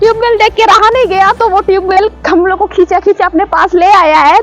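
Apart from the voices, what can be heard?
No everyday noises stand out.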